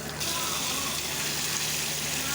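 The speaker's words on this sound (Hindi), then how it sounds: "ये देखिए व्यूअर्स, हमने इसमें थोड़ा सा पानी ऐड किया है।" Water gushes into a mutton masala curry cooking in a pot, a loud continuous pour with a sizzling hiss that carries on steadily throughout, with no voices.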